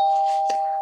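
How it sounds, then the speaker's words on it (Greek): A toy-house doorbell rings once, a steady sustained electronic tone with a brief strike partway through, clear and close, alone without talk. "Αχ, χτύπησε το κουδούνι."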